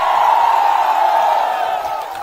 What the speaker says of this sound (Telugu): చప్పట్లు కొట్టి అభినందించండి.